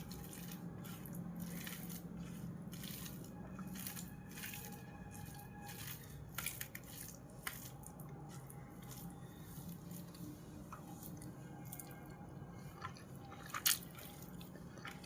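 Someone eats rice with red amaranth greens and prawns, giving soft, faint, close-up wet squishing and chewing with occasional small crunchy clicks and drips over a quiet background, with no talking.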